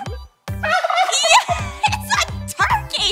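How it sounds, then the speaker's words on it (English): A turkey gobbles in rapid, rattling bursts, loud and close, repeating several times in quick succession. "Yeah, it's a turkey!"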